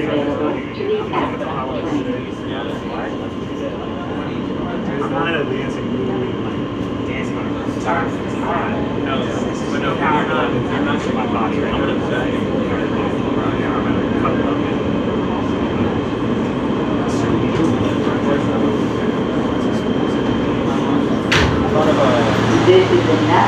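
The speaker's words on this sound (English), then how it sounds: "This is the Nassau Avenue bound G local train." An R160 G local subway train runs between stations, giving a continuous rumbling roar with rattling wheel clatter that swells toward the end, heard from on board.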